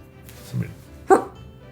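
In a hotel room, a person imitates a dog with two short, soft yipping barks about half a second apart, close to the microphone.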